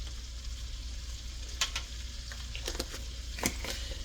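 Boiled eggs fry in a pan, giving a soft continuous sizzle over a low hum, broken by a few sharp close crackles and utensil taps, moderately quiet with no speech.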